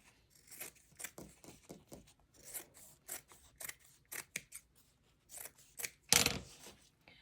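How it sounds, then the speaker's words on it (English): Scissors trimming excess fabric close up, a string of crisp snips and slicing cuts at an uneven pace, ending with one louder, longer cut. "I cut off the excess and I'm probably going to cut off a little bit more"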